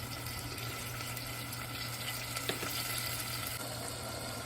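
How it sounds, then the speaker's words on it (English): Mutton biryani with whole spices cooks in a pot, giving a steady, even sizzle with a faint scrape of stirring near the middle. No voices. "Now we are going to mix all of this again and give it a good stir."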